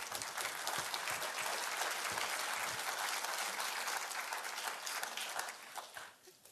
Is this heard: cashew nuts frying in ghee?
no